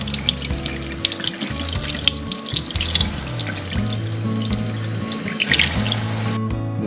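Salmon fillets rinsed under a running kitchen tap, a steady close splash of water into a sink with shifting tones as the flow hits the fish, uninterrupted for several seconds.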